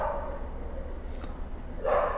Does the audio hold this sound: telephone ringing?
no